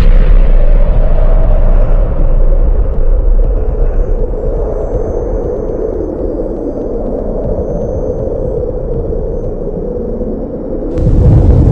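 Archival recording of the Tsar Bomba nuclear bomb explosion, a loud sustained low rumble that fades slightly over several seconds and then swells again near the end.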